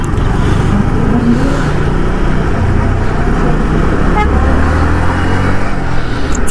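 Heavy road traffic surrounds a motorbike rider, a dense, continuous roar of car and truck engines with car horns honking through the din.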